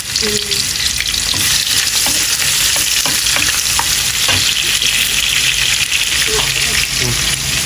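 Pangas fish and fotí fish with potatoes frying in very hot oil, a loud steady sizzle running throughout with occasional stirring scrapes and pops, close by.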